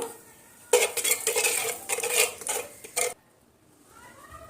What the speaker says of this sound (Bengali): এবার আমি একটু নেড়ে চেড়ে নেব